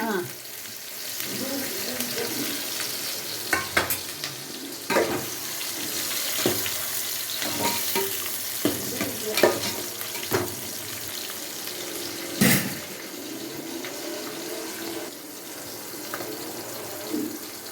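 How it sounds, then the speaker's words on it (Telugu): Curry leaves and onions hit hot oil for a Rayalaseema fish curry, producing a near, steady sizzle broken by sharp pops and stirring clatter, with running water in the background. "నూనె కాగింది కదా, కరివేపాకు వేస్తాను."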